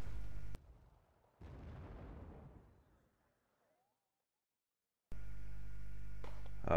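An F4 airstrike bombing a Stormer in Wargame: Red Dragon, with a heavy explosive burst that rumbles and fades over a couple of seconds between louder stretches of battle noise.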